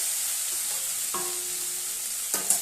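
Spice paste for a fish curry fries in oil, cooked down until the oil separates, giving a steady close sizzling hiss throughout with a couple of faint clicks of a spoon.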